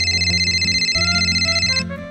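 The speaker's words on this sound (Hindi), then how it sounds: "मेरा फोन कहाँ बज रहा है?" A mobile phone ringtone plays loud and close, a steady repeating electronic melody pulsing for about two seconds before cutting off, with no voices over it.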